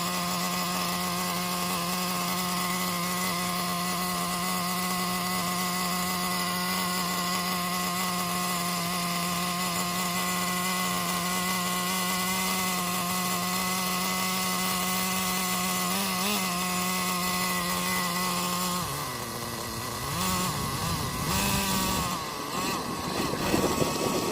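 Traxxas Jato 3.3 nitro RC truck engine running on 30% nitro fuel, a loud, close, steady high-pitched buzzing idle that holds for about twenty seconds before the pitch wavers and shifts as the idle is adjusted, with no talk.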